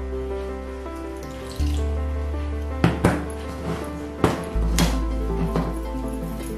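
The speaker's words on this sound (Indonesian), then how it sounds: "Nah ini kita masukkan air, jangan terlalu banyak." Water runs from a tap into a bowl for fried squid batter, a steady pouring stream that stops and restarts, with a few sharp knocks and clunks of a container close by.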